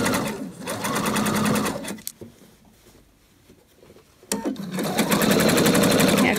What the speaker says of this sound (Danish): Og så syr jeg lige midt imellem min rynketråde.